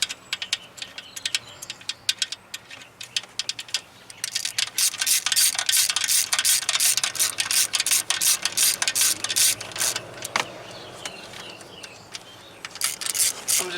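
A hand ratchet tightens intake bolts on a 3.5-litre 2013 Ford Explorer, clicking in steady, rapid runs of short bursts with brief pauses between strokes, close and crisp, with no talking over it.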